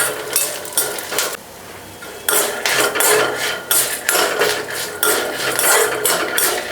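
Toor dal being dry-roasted and stirred in a metal pan for a garlic dal chutney, a close, busy run of scraping and clinking strokes with a short pause midway, no voices.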